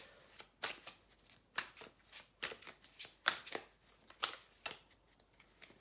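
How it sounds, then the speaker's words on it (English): Tarot cards are shuffled and laid out on a table, a quiet series of about a dozen crisp riffling flicks and soft slaps at an uneven pace, close by with no talking. "I'm going to lay a few of the cards first."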